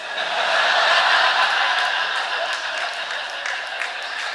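An audience applauds at a live storytelling show, a dense, steady wash of clapping that starts loud and fades slightly over several seconds, with no clear voices above it.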